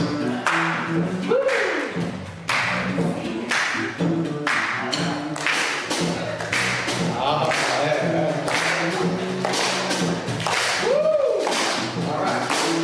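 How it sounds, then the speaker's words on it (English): An audience claps along with a jazz trio at a spiritual Wednesday service, sharp rhythmic hand claps landing in a steady beat under the band's music and a singing voice. "maybe you can help us out with a little hand claps"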